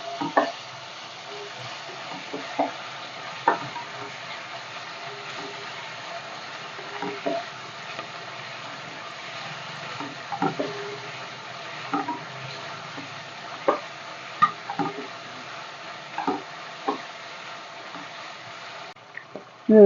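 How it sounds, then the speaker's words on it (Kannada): Ginger garlic paste fries with onions in a pan for chicken biryani, giving a low, steady sizzle broken by scattered clicks and scrapes of a spoon stirring at an unhurried pace throughout, with no talking. "ಒಂದು ಸ್ಪೂನ್ ಅಷ್ಟು ಶುಂಠಿ ಬೆಳ್ಳುಳ್ಳಿ ಪೇಸ್ಟ್ ಹಾಕ್ತಾ ಇದ್ದೀನಿ ಹಸಿ ಸ್ಮೆಲ್ ಹೋಗೋ ಫ್ರೈ ಮಾಡ್ಕೊಳ್ಳಿ"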